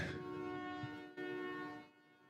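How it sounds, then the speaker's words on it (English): Vehicle horns honk outside in one long, steady blare that briefly breaks, resumes and then fades. No one speaks. "Hearing some honking going on out there."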